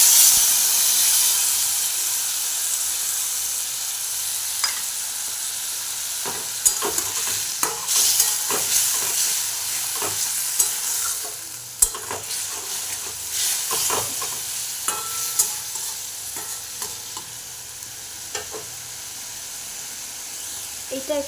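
Chicken sizzles and fries in a hot pan while being stirred with a utensil for a stew, with intermittent scraping clicks over a steady hiss, close and moderately loud.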